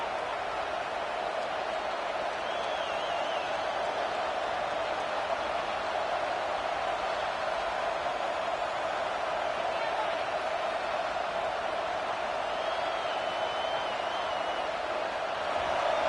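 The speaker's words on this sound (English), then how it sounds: "Decibels rising as the crowd gets behind this defense on 3rd down" Oklahoma Sooners fans roar in a college football stadium on a third-down defensive play. A dense, sustained crowd noise holds steady throughout, with a broadcast voice faintly beneath it.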